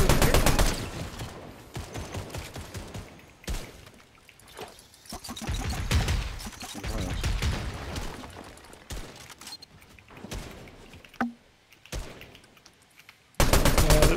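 Rapid bursts of video game gunfire crack through a firefight, some in quick volleys and others as scattered single shots, loud and close with short gaps between them.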